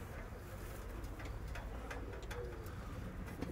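Pigeons bathe and splash in water, the wet flutters and slaps coming in scattered bursts over a steady outdoor background, with occasional faint cooing nearby.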